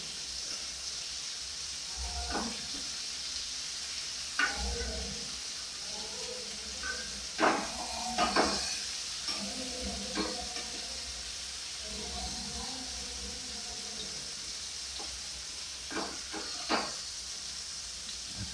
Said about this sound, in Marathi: आता आपण परतूया दुसरी साईड भाजायला परतून घेऊया